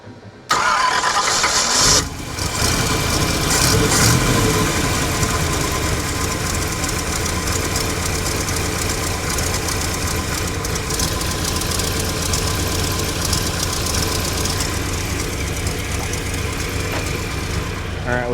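A 1969 GMC truck engine cranks and catches on its first start in 30 years, then settles into a loud, steady, slightly rough idle that runs continuously.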